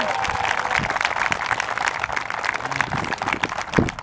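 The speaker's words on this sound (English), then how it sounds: "You guys can applaud for that." A graduation ceremony crowd applauds steadily and loudly for a few seconds, a thick, continuous wash of many hands clapping with faint crowd noise beneath.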